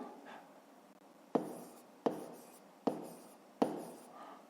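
Pen on paper writing out a maths exercise, with a faint scratchy stroke at first and then four sharp taps or strokes at steady intervals, close and fairly quiet.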